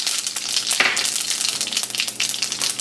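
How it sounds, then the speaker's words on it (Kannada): Asafoetida, mustard seeds and lentils fry in hot oil over medium heat as a tempering for Kannada vangi bath, giving a steady, close, crackling sizzle with small pops throughout and no voices. "ಈ ಬೇಳೆಗಳು ಕಂದು ಬಣ್ಣ ಬರೋವರೆಗೆ ಹುರಿಬೇಕು"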